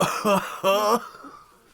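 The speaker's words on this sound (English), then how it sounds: "I got that fuck boy cough" Two harsh, throaty coughs in quick succession, close and loud, followed by a quiet breathy trailing sound.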